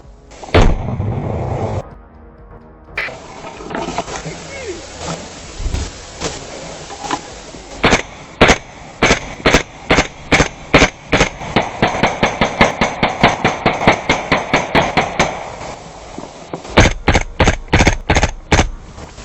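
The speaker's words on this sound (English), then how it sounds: "a Ukrainian soldier deployed a grenade into the bunker and applied controlled fire toward the interior." Gunfire pours into a bunker during frontline combat in Ukraine: a long, loud run of sharp, evenly spaced shots fired at close range, preceded by heavy blasts and rumbling, with no voices.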